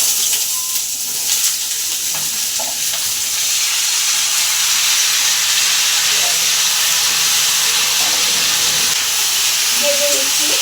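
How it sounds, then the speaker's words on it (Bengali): Potatoes, onions and eggplant fry in mustard oil with a steady, loud sizzle and hiss that fills the whole stretch, broken by faint scrapes of stirring. "দেখুন এটা আমি জল দেওয়ার আগে ভালো করে ভেজে নিচ্ছি আলু আর পেঁয়াজ"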